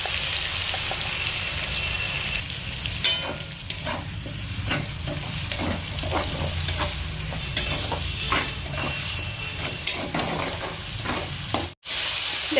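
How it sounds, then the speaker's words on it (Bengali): Onion paste frying in hot oil left from frying chicken, a loud continuous sizzle like rain on a surface, with scattered stirring scrapes and crackles throughout and a brief cut near the end. "এই চিকেন ভাজা তেলের মধ্যেই আমরা এখন দিয়ে দেব পেঁয়াজ বাটা।"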